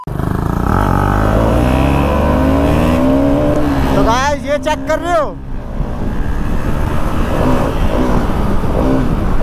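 A KTM Duke 250 motorcycle revs sharply in a short burst of rising and falling throttle blips during stunt riding, loud and close, with someone talking over the engine noise before and after.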